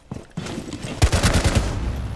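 A rapid burst of gunshots rings out in Rainbow Six Siege, with sharp clustered cracks, a few isolated early shots, and then a dense volley of close, punchy reports.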